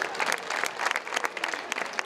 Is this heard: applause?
yes